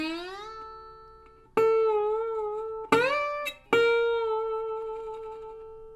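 Bottleneck slide guitar phrase climbing up the first string, notes gliding into pitch with sliding swoops, a few plucked attacks ringing and fading, close and clear with no talking.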